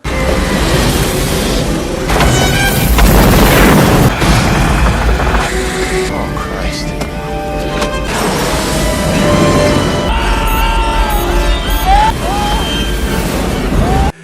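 Loud booming blasts and crashing debris from an explosion on a comet's surface in a meteor disaster film, rumbling continuously with a dense musical score, and a voice speaking over it.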